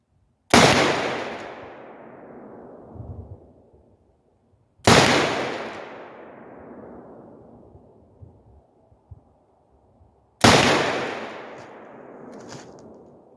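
Rifle shots from an AR-47 at an outdoor range, three sharp loud cracks each trailing off into a long decaying echo, spaced several seconds apart with no talking.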